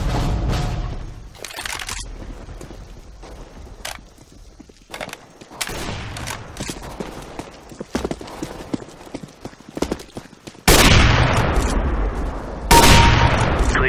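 Sniper rifle and Desert Eagle pistol shots ring out in a CS:GO match, loud sharp bursts spaced irregularly through the stretch, with heavier blasts near the end over game background noise.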